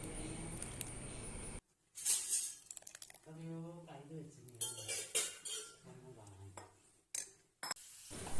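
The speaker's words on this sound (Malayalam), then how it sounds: "എന്നിട്ട് നന്നായിട്ടൊന്ന് ഇളക്കി യോജിപ്പിക്കാം" A spoon stirs green gram dal payasam with coconut milk in a pot, clinking and scraping against the metal in short bursts, with a voice talking through part of it.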